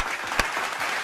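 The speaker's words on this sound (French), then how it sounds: "Tiens, on t'applaudit." A brief burst of applause, faint and continuous with one sharper clap standing out, heard over the background of a comedy show for about a second.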